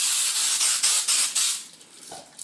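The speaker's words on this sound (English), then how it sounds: "We're just gonna spray it." Rave Mega Hold hairspray hissing from an aerosol can in a rapid series of pulsing bursts, close and steady, then tapering off into quiet.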